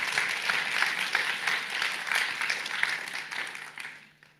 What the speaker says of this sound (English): There's a round of applause